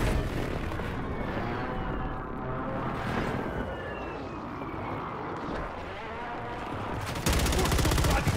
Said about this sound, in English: Airstrike, airstrike.